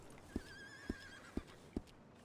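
A horse in a video game roleplay gives four evenly spaced low thumps like hoofbeats under a faint whinny-like tone, quiet and close, with no talk.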